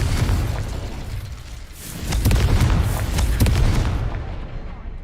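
An Incendio fire spell is cast in a Skyrim modpack, bursting into a loud, rumbling whoosh of flame with crackling pops that swells midway and then holds before trailing off.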